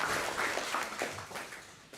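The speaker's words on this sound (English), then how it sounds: "Give them a round of applause." Applause for the sponsors at a tech conference, a short burst of scattered clapping from a modest audience, fairly faint and thinning out toward the end.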